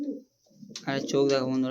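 A male Kaldom pigeon coos in low, throaty tones, heard close and mixed with someone talking over it.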